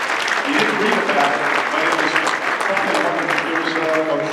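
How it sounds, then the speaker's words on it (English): Applause from an audience at a political institute event at UNC-Chapel Hill, a steady, dense clatter of many hands clapping throughout, fairly loud and sustained with a few scattered cheers over it. "y'all give both these gentlemen a round of applause for coming to my event"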